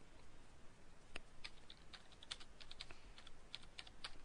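Computer keyboard typing during a Perl programming demo, faint irregular key taps scattered over a steady low hiss, no voices over them.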